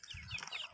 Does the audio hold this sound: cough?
no